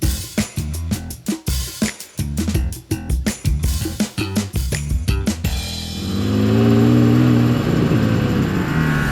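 A Porsche 996 Turbo S engine revs in a series of sharp staccato blips up close, then settles into a smoother rising drone as the car pulls away, loud and with no speech.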